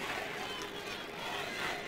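Crowd noise at a 2002 Armagh v Tyrone Gaelic football Ulster championship replay, a broad distant roar of many voices that holds steady and swells slightly near the end, faint and far off.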